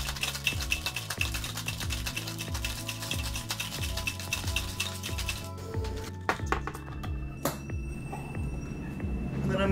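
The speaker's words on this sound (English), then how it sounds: "I'm gonna grab some ice, we'll give it a shake." Ice is shaken hard in a cocktail shaker while mixing a Monkey Gland, making a fast, loud, rhythmic rattle of cubes against metal. It stops about halfway, and scattered clinks and handling noises follow.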